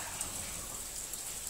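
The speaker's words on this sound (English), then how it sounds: "It's raining." Steady rain falling outdoors, a continuous even hiss with faint scattered drops, moderately quiet and unbroken, with no voices.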